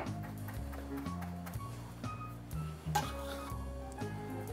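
A spoon stirs tomato sauce with freshly minced flat-leaf Italian parsley in a pot, giving soft scraping strokes and occasional clinks against the metal over a low kitchen hum, with no talking.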